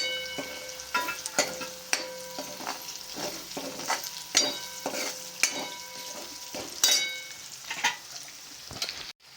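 Onion frying in a pan for a spicy curd and capsicum curry, with steady close sizzling and a run of sharp scraping knocks as a spatula stirs it repeatedly.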